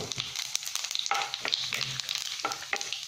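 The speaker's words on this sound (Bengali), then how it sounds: "এখন আমি যে গোটা জিরিয়ে নিয়েছিলাম এবং এলাচ দারচিনি দিয়ে দিচ্ছি।" Whole cumin, cardamom and cinnamon sizzle in hot oil as a tempering for potato curry, a close, steady crackling hiss with brief sharper pops and faint stirring scrapes throughout.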